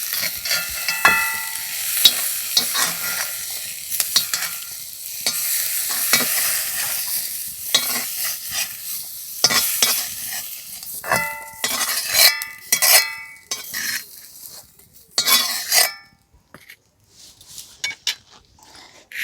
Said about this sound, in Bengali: এইভাবে খুন্তির সাহায্যে সব কিছু ভেঙে দিচ্ছি